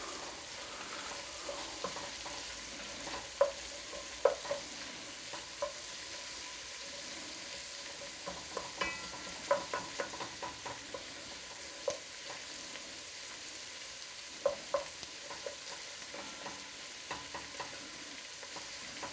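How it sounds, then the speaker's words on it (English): Dry spices and onion frying in a pan over medium heat, a steady low sizzle with intermittent stirring clicks and scrapes throughout, fairly quiet and close with no talking. "you're basically going to fry your dry spice with your onion"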